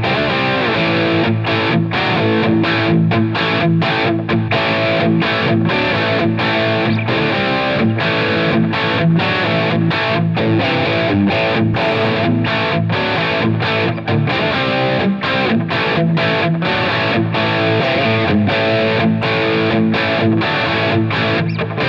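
A distorted electric guitar played through a Line 6 Helix amp modeler, chugging rhythmic chords with short choppy gaps, loud and continuous, with no voices.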